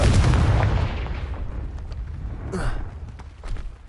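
A Confringo fire spell bursts in Hogwarts Legacy with a loud, deep boom at the start that rumbles and fades over a couple of seconds, followed by quieter crackles and a faint whoosh.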